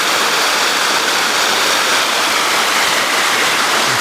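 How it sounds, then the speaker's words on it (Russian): A small, landscaped waterfall spills down a channel of stones at a Serbian spa, its steady broadband rush loud and close throughout, with no voices over it. "Вот он, водопадик-то."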